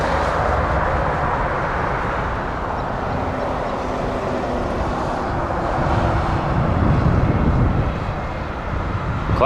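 Air Canada Airbus A220 in retro Trans-Canada Airlines livery at Toronto Pearson, its engines a steady broadband roar that swells slightly near the end, close and loud with no talk.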